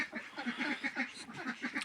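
Soft, raspy quacks from a brown drake in quick succession, faint and somewhat distant, with no talking.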